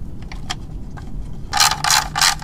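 A ratchet tightens bolts on a carbon fiber skid plate of an off-road Husqvarna dirt bike; faint clicks come first, then three loud, close bursts of rapid ratcheting with no talk.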